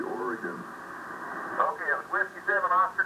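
A 1970-era Drake 4-Line tube ham radio with a Raspberry Pi DDS-VFO picks up the daily noontime net: a narrow, band-limited voice talking over the air with a faint background hiss.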